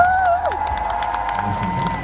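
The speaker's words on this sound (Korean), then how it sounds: "지금까지 서준 씨, 박수 드리겠습니다" A fan meeting crowd cheers and applauds for actor Park Seo-joon, a loud, steady wash of clapping and shouts with a high sustained tone running through it.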